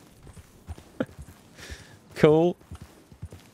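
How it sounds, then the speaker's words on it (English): Horse hooves clop in a slow, uneven walking rhythm in the game Red Dead Redemption 2, faint and close, with a brief tonal game sound midway and someone briefly speaking. "I can now strafe with my horse."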